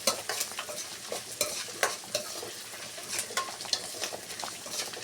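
Amaranth greens fry in a pan with onion and dried red chilli: a soft continuous sizzle overlaid by irregular bursts of spatula stirring and scraping, close and fairly quiet, with no voices.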